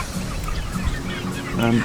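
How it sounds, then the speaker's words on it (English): A small hen gives soft, short clucks, several close, faint murmurs ending in a slightly louder cluck, against a quiet background. "She's a lovely little hen."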